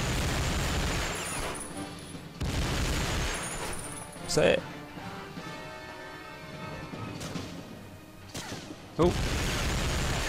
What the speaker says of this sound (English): Random machine gun fire for the win.